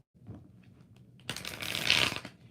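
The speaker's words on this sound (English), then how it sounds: "5 shuffles for Sophie" A deck of tarot cards is handled with soft taps and slides, then riffled in a loud, close, crackling burst of flicking cards.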